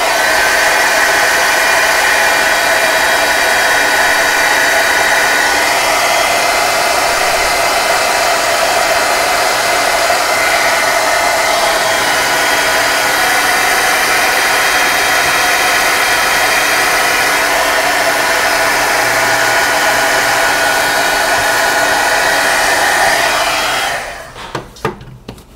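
A hair dryer blows steadily and loudly while drying paint on an artwork, a continuous close whooshing hum lasting over twenty seconds before it cuts off abruptly at the end.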